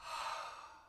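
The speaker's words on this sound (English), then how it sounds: "Take a double breath in and then double exhale" A deep breathing sound during a seated yoga exercise for the lower chakras, heard as one long, fairly close airy exhale or sigh filling the second, with no talking.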